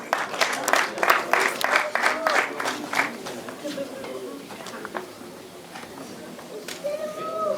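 A wedding audience claps in a dense burst of rapid, close applause that thins out after a few seconds, with talk and scattered voices continuing over and after it.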